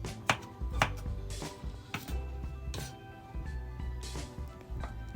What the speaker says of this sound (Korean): 제일 먼저 마늘을 썰어줍니다